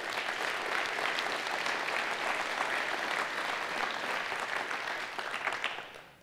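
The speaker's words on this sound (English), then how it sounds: "So let's give all of our chapter leaders a big round of applause." A conference audience at a Trout Unlimited gathering gives steady, dense applause for chapter leaders, filling the clip evenly before tapering off at the very end.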